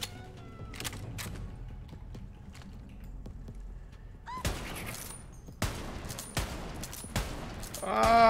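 Gunfire in the video game Borderlands 3, with several loud shot bursts and rapid volleys, the heaviest in the second half, over a busy game soundscape.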